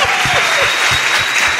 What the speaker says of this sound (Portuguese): aplausos pro Emanuel aqui